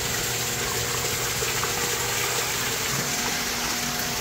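Steady, full-bodied rush of water running through an aquaponics system with plants growing in pots, constant and close throughout with no talk.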